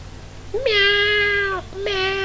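A cat in the game Final Fantasy IX, in the village of Dali, gives two clear, drawn-out meows, the first long and rising, the second starting right after, close and prominent.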